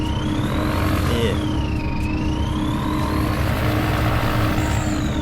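A steady, loud engine drone from a tractor in the video game Farming Simulator 19, with a gently wavering pitch and no talk over it.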